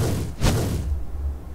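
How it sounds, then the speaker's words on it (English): Fireworks explode in a Minecraft match during a competitive MC World Cup game: a single muffled boom with a brief whooshing burst over steady background noise. "They're shooting off fireworks."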